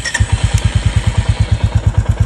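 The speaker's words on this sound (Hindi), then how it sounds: "तो चलिए अब मैं आप लोगों को इसका एग्जॉस्ट नोट सुनाता हूँ" A 2023 Royal Enfield Bullet 350 motorcycle engine thumps at a fast, even idle right after starting, its deep exhaust pulses loud and close.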